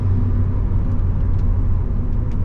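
A Rover 200 BRM car drives steadily on a morning road, its close, continuous engine rumble and low road drone holding an even level throughout with no gear changes or revving.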